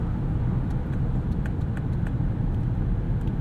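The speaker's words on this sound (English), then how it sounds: "This transmission shifts pretty quickly." A 2018 Lexus LS 500 AWD with a twin-turbo V6 and ten-speed transmission drives along, giving a steady low road and engine rumble from inside the cabin with faint ticking over it.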